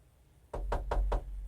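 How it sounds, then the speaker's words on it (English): Four evenly spaced, solid knocks land on a door in quick succession, close and fairly loud, against a quiet room. "I hear a knock on the door"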